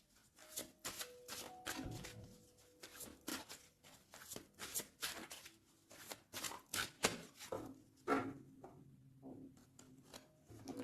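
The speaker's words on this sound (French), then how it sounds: "Je vais faire une petite coupe pour avoir un message." A tarot card deck being shuffled and cut, with soft, close riffles, slides and flicks of cards in irregular bursts, faint and quiet, with no talk.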